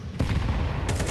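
AK-47 fire in a Counter-Strike 2 match on Vertigo crackles in a quick sequence of loud shots over dense game noise.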